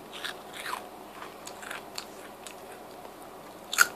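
Crunchy shrimp crackers bought at a Chinese supermarket being bitten and chewed close up, with a few faint crisp crunches spread across the moment and one sharper bite near the end.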